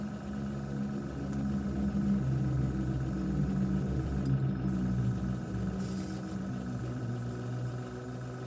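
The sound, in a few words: air compressor running for model building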